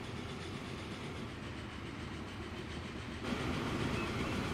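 Trains running in the Train Fever video game, giving a continuous rumbling rail clatter at a steady moderate level that grows slightly louder toward the end.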